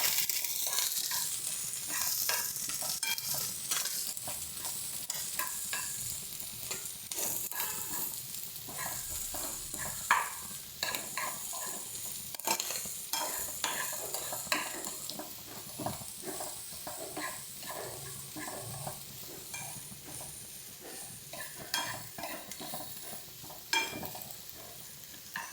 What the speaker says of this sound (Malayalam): സവാള ഇട്ടിട്ടുണ്ട്. ജസ്റ്റ് ഒന്ന് ഇളക്കി കൊടുക്കാം.